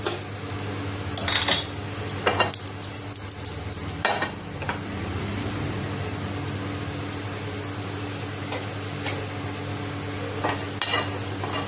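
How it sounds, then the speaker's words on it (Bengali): Kasuri methi warms in a frying pan, giving a soft steady sizzle over a constant background hum, broken by a few sharp metallic scrapes and clinks of a utensil against the pan. "একটু কস্তুরি মেথি আমি একটা ফ্রাই প্যানে একটু গরম করে নিচ্ছি"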